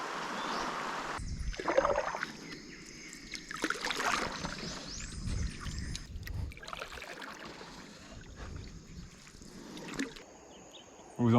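Rushing river rapids heard from a canoe on a jungle river expedition, a continuous broadband roar of moving water with some splashing and paddle noise. It is fairly faint and steady, with a brief louder knock near the end.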